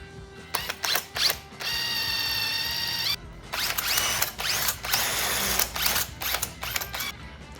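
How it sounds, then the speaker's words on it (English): A power drill bores a pilot hole into a wooden bed leg in a workshop: short whirring bursts, then one longer steady high whine, followed by several more quick pulses of the drill, close and clear with no talk. "I mark that so we can drill a pilot hole into the leg itself."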